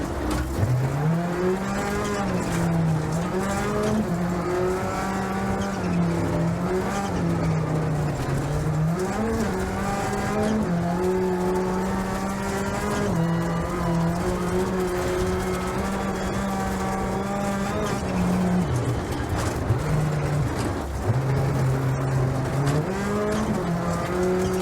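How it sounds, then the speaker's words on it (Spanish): A Hyundai i20 N rally car powers through downhill hairpin curves at Rally Italia Sardegna, its engine note rising and falling continuously with gear changes, loud and close as if from onboard. "Estas curvas en bajadas y cerradas se va el coche hacia afuera"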